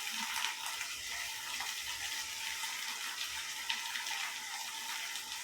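Cumin seeds sizzle and crackle in a hot pan with a steady, bright hiss and faint stirring clinks, close but fairly quiet, with no voices.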